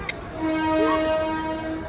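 A train horn sounds a sustained tonal blast as a train rumbles nearby, the horn swelling and fading over a couple of seconds.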